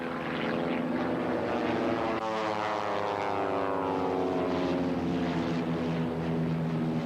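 An aerobatic propeller plane at a 1987 air show dives and rolls, its engine droning loudly with a rising and falling pitch sweep as it passes, continuous and strong throughout.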